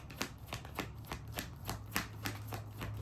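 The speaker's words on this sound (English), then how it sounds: "last shuffle, I should say, to kind of close out this reading." Rapid riffling of oracle cards being shuffled, a steady series of crisp bursts roughly every quarter second, close by, with no voices.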